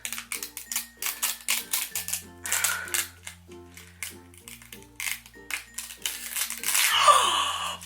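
Crinkling cellophane is peeled off a handmade craft piece in a series of sharp, close crackles and snaps, with a longer rustling burst near the end.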